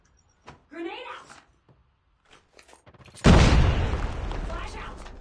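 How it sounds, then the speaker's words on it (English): A video game grenade explodes with a sudden loud, close blast that lingers as a long rumbling decay, following a stretch of quiet with brief shouted callouts and clicks beforehand. "Grenade out!"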